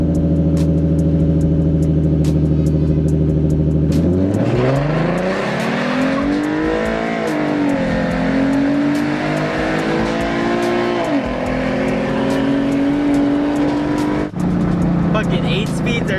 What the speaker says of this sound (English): About to race my boy Matt's 6th gen SS.